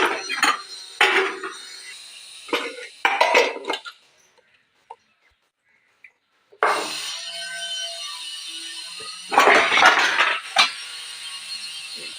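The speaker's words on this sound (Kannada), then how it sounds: "ಪಾತ್ರೆ ಎಲ್ಲ ಜೋಡಿಸ್ತಾ ಇದ್ದೀನಿ." Metal pots and dishes being arranged in a home kitchen, sharp clanks and knocks in short bursts with a quiet pause mid-way, close by with no speech.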